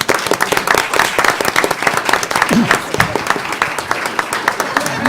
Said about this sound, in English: we'd like to give you all another round of applause